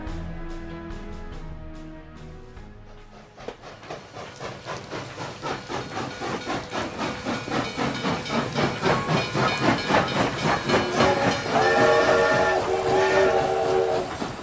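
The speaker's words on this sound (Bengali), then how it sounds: "রেলগাড়িটা ঘ্যাস ঘ্যাস শব্দ করে ভেজা প্ল্যাটফর্মের গা ঘেঁষে থামল" A train hisses steam as it draws to a stop beside a wet platform in the rain, with rhythmic chugging building steadily louder and a brief whistle-like tone near the end, heard alone.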